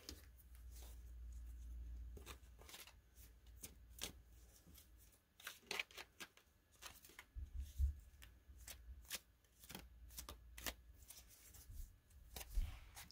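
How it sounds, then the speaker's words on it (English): A new tarot deck being shuffled, soft papery riffles and card slaps in an irregular rhythm, close and quiet with no talking. "I will briefly shuffle."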